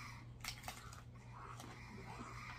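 White Castle Hamburger Castle Bites, cooked in an air fryer and a little overdone, crunch as they are chewed close to the mic, with a few sharp bites and then a softer run of crackly chewing.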